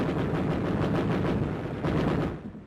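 Sustained gunfire from troops in the Battle of Okinawa, a dense, continuous rattle of shots and blasts at fairly close range, fading off at the end, with no voices.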